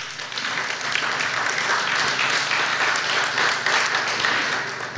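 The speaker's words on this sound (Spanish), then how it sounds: "El aplauso para él, por favor." A crowd at a civic security committee ceremony applauds a prize winner, dense sustained clapping that fills the room at full strength from start to finish.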